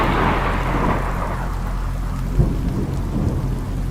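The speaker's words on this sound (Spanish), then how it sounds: "Ese fue el trueno más fuerte que creo haber escuchado jamás." A deep rumble of thunder from a violent storm rolls out and fades, while steady rain patters throughout.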